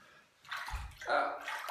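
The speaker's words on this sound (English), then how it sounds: "a little bit of warm water" Warm water runs from a tap for a couple of seconds to wet a cloth, a steady splashing flow that swells midway and stays close and moderately loud with no talk over it.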